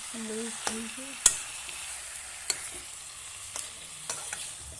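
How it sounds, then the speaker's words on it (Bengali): Potatoes frying in a pan for a country chicken dish, a quiet steady sizzle punctuated by a few sharp clicks and taps of a utensil. "আলু দিচ্ছি সঙ্গে ভাজি করে"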